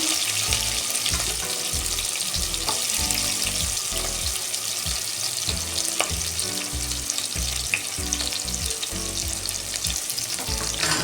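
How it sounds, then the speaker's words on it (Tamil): Green chilli and onion frying in a pan, giving a steady close sizzle with crackling pops and some stirring scrapes throughout, with no talk. "பச்சை மிளகாய் போட்டு வதக்கிக்கலாம்."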